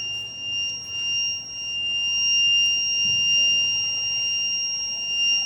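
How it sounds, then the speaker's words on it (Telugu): A fire sensor buzzer on a school tinkering-lab project model sounds a steady high-pitched electronic tone, continuous and even throughout, over faint room noise. "ఫైర్ పెట్టగానే బజర్ మోగుతుంది."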